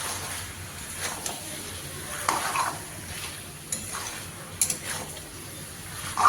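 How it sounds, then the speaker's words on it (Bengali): Thinly sliced tomato sautéing in a pan of mutton vindaloo, giving a soft steady sizzle with occasional scrapes and clinks of a stirring spoon against the pan. "টমেটো দেওয়ার পরেই একটু কষিয়ে নিচ্ছি।"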